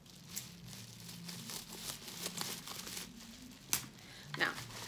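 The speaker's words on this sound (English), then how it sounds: "Scissors." Scissors cut open cosmetic product packaging from a Milani haul, heard as faint crinkling and a few sharp snips and plastic crackles, close and quiet.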